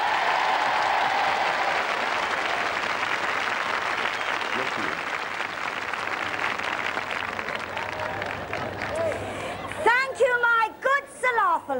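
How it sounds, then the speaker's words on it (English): Hearty audience applause at a 1987 televised royal charity knockout tournament, a dense steady clapping crowd filling most of the stretch, then thinning near the end as a voice begins over it. "With a hearty round of applause, if you please."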